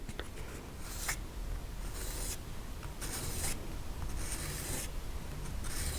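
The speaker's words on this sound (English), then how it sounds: "So I just have 800 grit sandpaper here on the sanding stick" Rhythmic, gritty rasping strokes repeat at a steady pace, each swipe a short scratchy burst of 800-grit sandpaper on a sanding stick rubbing against metal soldered jewelry, close up.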